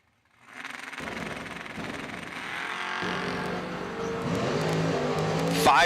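Drag race cars launching side by side, a GTO among them in the right lane at an end-of-year drag racing event, engines roaring and building steadily over several seconds with an announcer talking over them.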